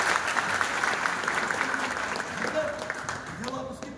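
Audience applause at a late-night meeting, a dense steady clatter of clapping hands filling the whole clip, with a voice speaking over it near the end.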